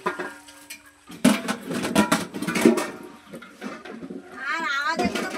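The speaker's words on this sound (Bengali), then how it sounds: "কিন্তু হাঁড়ি কুড়ির খুব আওয়াজ হচ্ছে জানো তো।" Pots and pans clatter in a workshop making chhana (curdled milk), with sharp metallic bangs and scrapes close by, mixed with people talking and a brief high cat-like cry.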